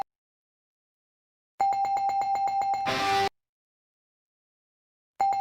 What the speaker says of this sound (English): We got bells going off here.